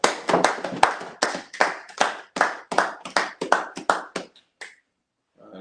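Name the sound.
congregation clapping at a service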